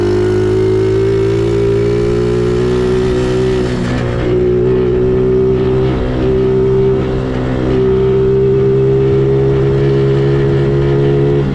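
SyxMoto ATV or dirt bike engine held at full throttle on a sidewalk, a loud, steady, buzzing drone with strong low harmonics that dips slightly midway and then holds high again.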